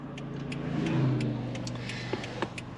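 A 2013 Toyota Hilux ute fitted with a 3UZ V8 engine on a test drive, giving a steady low engine drone that swells slightly and eases, with faint ticking clicks above it throughout.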